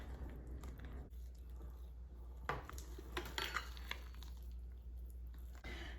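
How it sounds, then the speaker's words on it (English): A metal spoon stirs donut dough in a bowl, making soft scraping clinks and squishy mixing sounds in irregular strokes, close and fairly quiet over a low steady background hum. "Now you're going to use a metal spoon, and that'll keep the dough nice and airy."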